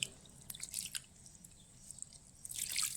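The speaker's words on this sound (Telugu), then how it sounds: "ఇప్పుడు కొంచెం వాటర్ వేసుకుందాం" Water is poured into the soil of a potted plant, giving faint, soft drips and a wet, squishy trickle, with a quiet splashing flurry near the end.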